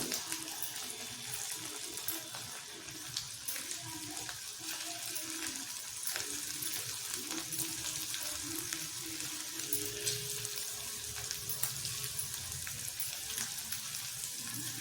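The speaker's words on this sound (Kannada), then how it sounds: "ಇದನ್ನು ಎಣ್ಣೆ ಕಾಯಕ್ಕಿಟ್ಟಿದ್ದೆ ಇದನ್ನ ಎಲ್ಲ ಇವಾಗ ಕರಿಯೋಣ" Mini samosas frying in a pan of hot oil, giving a steady, even bubbling sizzle that stays continuous throughout with no voices.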